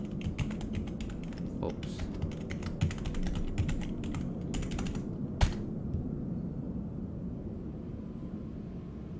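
Rapid clicking from a computer keyboard being typed on after boot-up, dense keystrokes for about five seconds and then falling away to quiet room noise, with a brief spoken exclamation in the middle.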